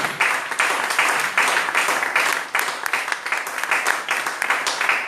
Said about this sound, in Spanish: ¿Cuántos aplauden al Rey?